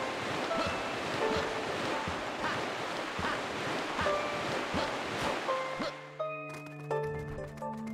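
Luigi plunges into water in Super Mario Galaxy, with steady surf-like splashing and churning water for several seconds before bright chiming game music takes over near the end.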